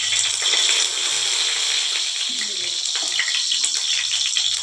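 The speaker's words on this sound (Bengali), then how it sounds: "তেল গরম হয়ে গেছে, এবার সেদ্ধ করা আলুটা" Boiled potatoes fry in hot white cooking oil for a vegetarian potato and cauliflower dish, giving a continuous close crackling sizzle throughout, with faint background sounds beneath.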